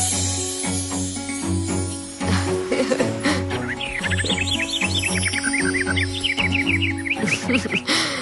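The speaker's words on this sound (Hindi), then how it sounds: "कितने दिनों बाद सतरंगी को फिर चहकते खेलते देख रहा हूँ।" Cartoon bird chirping in an animated Little Singham scene, a run of quick bright tweets and trills layered over a steady background music bed.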